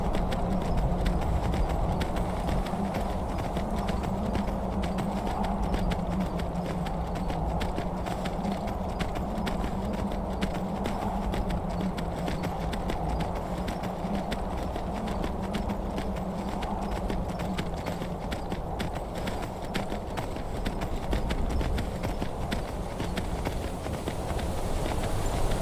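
Steady clip-clop of horse hooves trotting at an even rhythm in the video game Skyrim, continuous and moderately loud over a constant background hum.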